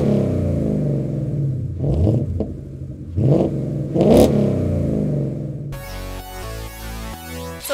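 A 2017 Ford Mustang GT V8 with a Cook's catback exhaust and X-pipe revs in several loud, close bursts over a deep idle rumble, with a separate clattering mechanical stretch near the end.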